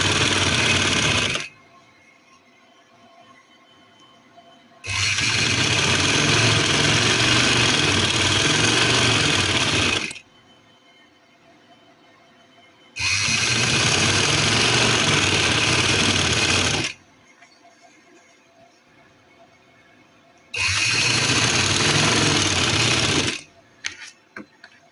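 A sewing machine stitches trouser fabric for a summer trouser with lace, running in four loud, steady bursts of a few seconds each, with quiet pauses between them.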